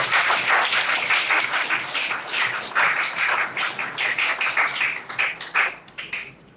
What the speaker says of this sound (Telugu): సో మన పెళ్లి కొడుకు గారికి మనందరం కూడా బిగ్ క్లాప్స్ ఇవ్వడం ద్వారా అభినందనలు తెలుపుతాం.